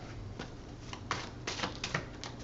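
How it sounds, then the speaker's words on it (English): Tarot deck given a short shuffle during a reading, with quiet, close card flicks and soft taps over faint background hum. "Short shuffle"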